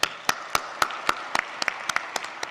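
Scattered applause comes from an audience at a physics symposium, a thin run of separate, sharp hand claps about every quarter second that quickens a little and then stays sparse and fairly faint.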